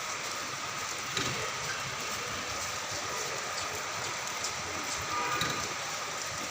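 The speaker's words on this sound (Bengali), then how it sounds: "এখন জোরে লাগছে আরো বৃষ্টি" Heavy rain pours down in a dense, even roar of hiss without pause, with occasional louder drops spattering nearby and no one talking.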